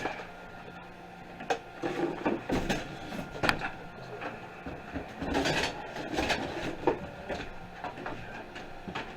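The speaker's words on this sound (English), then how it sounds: "Hopefully y'all can hear me over the 3D printer going." A 3D printer whirs and clicks with irregular mechanical movements and small knocks, moderately loud and close, running continuously without speech, in a room where an old desktop computer is being scrapped.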